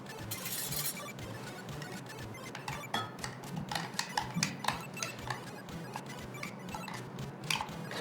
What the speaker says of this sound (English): All right, give it a good stir